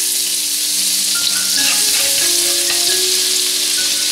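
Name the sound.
chopped scallions sizzling in hot oil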